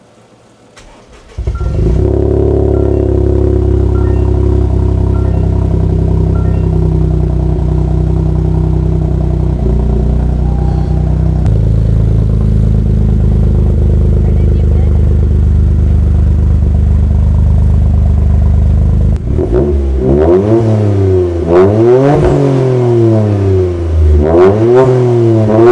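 Toyota GR Corolla with a SXTH Element dual exhaust starts and idles with a deep, loud, steady rumble close by, then finishes with several sharp revs rising and falling in quick succession.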